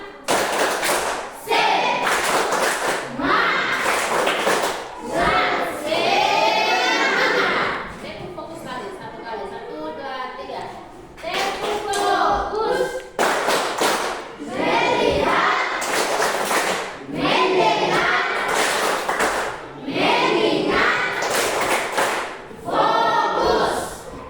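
A classroom of students does a rhythmic clapping game for an icebreaker, with bursts of loud group claps in set patterns and a teacher talking between the rounds.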